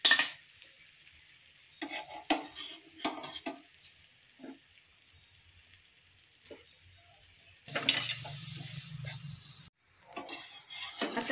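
Methi paratha fries in oil on a hot pan with a soft, close sizzle, broken by spatula scrapes and metal clinks, and the hiss swells louder for a couple of seconds near the end.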